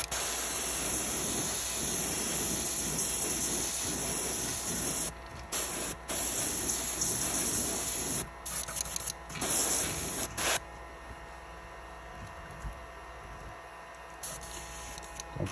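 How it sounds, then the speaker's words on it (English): Airbrush spraying Comart transparent orange paint onto a perch fishing lure: close, loud steady hiss of air and paint in long bursts, broken by short pauses, then a quieter softer spray toward the end. "Don't forget to lower your air pressure when you're spraying Comart paint, or it will bubble fast."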